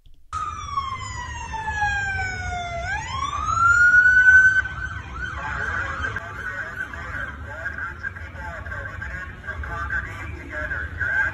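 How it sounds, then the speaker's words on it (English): A police siren wails with a long falling then rising sweep, loud and close, as police clear the streets during COVID-19, then gives way to street noise and a murmur of voices. "cops are driving on the streets, and they got their sirens and their lights going"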